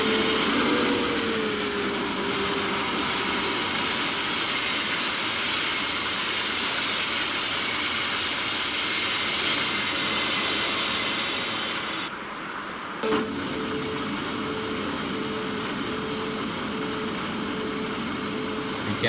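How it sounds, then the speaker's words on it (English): An MRCE electric freight locomotive in Train Sim World hauls cargo toward Hagen freight yard, producing a continuous dense rumble and rushing noise with a faint electric whine, a brief dip in the drone partway through, and no talking. "We are driving MRCE electric locomotive freight cargo to Hagen"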